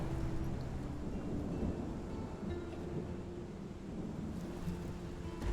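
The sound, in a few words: rain falling outside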